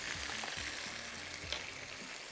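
Pieces of chicken fry in a pan while being stirred, a continuous soft sizzle with a few low knocks of the spoon against the pan, fairly quiet and with no talking.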